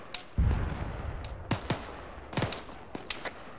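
Combat in ArmA 3 with a heavy distant boom followed by scattered sharp gunshots and more explosive cracks, irregular and echoing, some near and some far.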